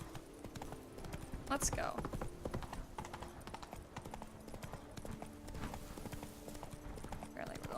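Rapid clip-clop of Roach the horse's hooves galloping in The Witcher 3, a rhythmic drumming that runs throughout at low volume, with a brief neigh and a player speaking over it.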